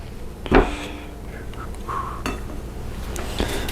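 A spoon knocking Duke's mayonnaise off into a bowl, one sharp clink of metal on the bowl's rim followed by a few faint scrapes and taps.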